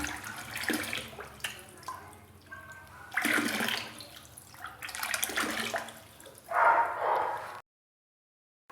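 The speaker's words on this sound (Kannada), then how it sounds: "ಈಗ ನಾವು ಈ ನೀರನ್ನು ಈ ನೀರಿಗೆ ಮಿಕ್ಸ್ ಮಾಡೋಣ" Water poured from one container into another as part of deep-cleaning a Kangen SD501 water ionizer, heard as close splashing and gurgling pours in several uneven bursts that stop abruptly near the end.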